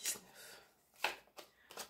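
Playing cards are shuffled and dealt out for a tarot-style reading, giving a few soft, brief riffling and slapping bursts spaced apart against a quiet background.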